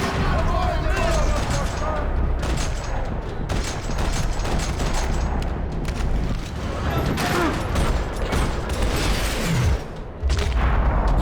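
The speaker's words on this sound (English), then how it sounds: "Another parking lot rattling with gunfire." Dense gunfire rattles through a parking lot in the Max Payne 3 video game, continuous loud overlapping shots and bursts with booms and mechanical clatter, voices speaking over the battle.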